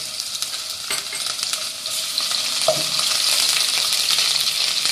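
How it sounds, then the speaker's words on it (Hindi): Steady sizzling of onion, garlic and ginger paste frying in hot oil, with a few light clinks of a utensil stirring in the pan; no talking. "इन सब चीज़ों को मैं अच्छी तरह भून लूँगी।"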